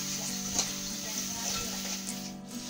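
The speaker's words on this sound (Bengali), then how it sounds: "আর এখন পেঁয়াজটা ভাজা চলছে" Onions frying in a pan for chicken biryani while being stirred: a steady, soft sizzle with light scraping stir strokes, no talking.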